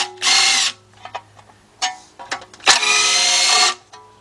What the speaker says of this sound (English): got our 10mm deep on our cordless impact